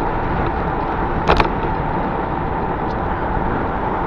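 A motorcycle engine under throttle while riding in winter sounds as a dense, steady roar with wind rush, loud and close, with one brief clack partway through.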